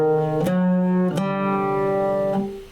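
An instrument plays the notes of the jins Hijaz scale in equal temperament, three sustained plucked tones in turn with clear attacks, close and solo, with no talk.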